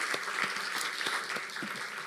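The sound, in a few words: congregation applauding the ushers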